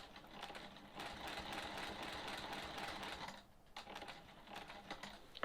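A sewing machine quilting a sawtooth star block hums in a steady rapid stitching run, pauses briefly, then restarts in short uneven bursts, close and moderately quiet.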